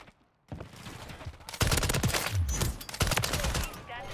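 Rapid bursts of Raal MG machine gun fire in Call of Duty: Modern Warfare III ring out loud and close, starting after a brief silence and continuing as a dense, sustained stream of shots.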